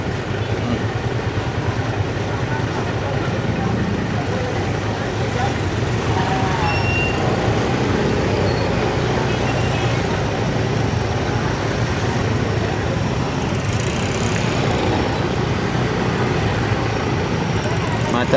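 Traffic jam around the market at Gambir during the end of Ramadan, a dense steady rumble of idling engines and street bustle, loud and unbroken, with people talking amid it.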